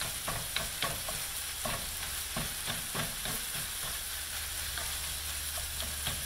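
Ground beef fries in grease with a steady crackling sizzle, interrupted by repeated scraping and tapping as a utensil stirs the meat in the pan, with no voices.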